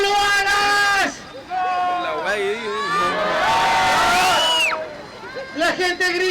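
A street show crowd in Viña del Mar shouting and cheering at a fire-eating act, loud whoops and excited yells from adults and children, with a performer's voice audible amid the babble.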